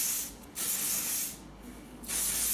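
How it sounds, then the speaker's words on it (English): Heat protectant sprayed onto hair before flat-iron curling, two close hissing bursts split by a short pause, with no voices. "So I'm going to start by spraying some of the heat defense through my hair"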